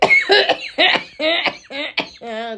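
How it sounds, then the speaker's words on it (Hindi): A run of harsh, raspy coughs, several in quick succession, close and loud, ending in a strained voiced cough. "खांसी हो रही है।"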